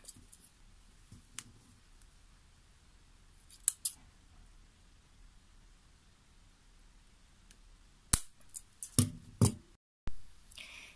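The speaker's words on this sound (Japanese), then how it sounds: "ハサミで短くします。" Scissors snip mizuhiki paper cord to shorten it, giving a few isolated quiet cuts early on and then a cluster of sharper, louder snips near the end, close up in an otherwise quiet room.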